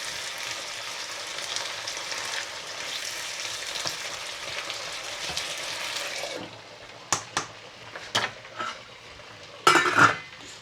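Food sizzles steadily in a pan in a home kitchen, a continuous close crackle that gives way to a few sharp metallic clinks and scrapes of a utensil stirring against the pan.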